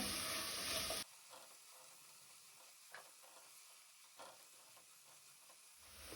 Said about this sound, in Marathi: मिडियम फ्लेमीचेर आमकां कांदो तळसून घेवपाक जाय।